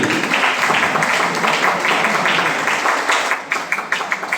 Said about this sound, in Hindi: एक जोरदार ताली इनके लिए होनी चाहिए।